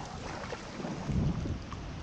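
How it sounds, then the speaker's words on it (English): Steady rain hisses across the whole stretch of an Adirondacks canoe trip, with a low rumble swelling briefly midway and wind buffeting the microphone. "Here comes the rain."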